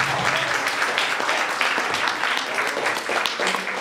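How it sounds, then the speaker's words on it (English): Panelists at a Miami Beach community forum on a light rail project receive a loud, sustained round of applause from the audience, a thick, steady clatter of many hands with a few voices mixed in. "And we can give our panelists a round of applause"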